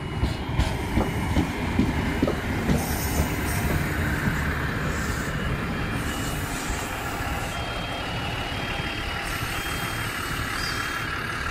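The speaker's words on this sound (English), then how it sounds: "This is Endeavour Set N11 on the Campbelltown service now departing." Endeavour set N11 passenger train departs Tahmoor station on a Campbelltown service, a rumbling diesel railcar drone with clattering wheels and brief beeps, loud and close at first, then settling into a steady roar.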